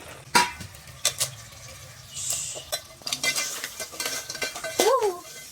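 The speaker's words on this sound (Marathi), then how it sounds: "खेकडे पण मस्त तेलामध्ये असे भाजून निघते" Crabs are stirred and fried in hot oil in a pan, with scraping spatula strokes, clinks of metal against the pan and bursts of sizzling that come and go over several seconds.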